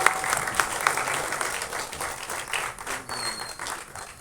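Applause from a festival audience for a guest on stage, a dense burst of clapping that stays fairly steady for a few seconds with a faint murmur beneath.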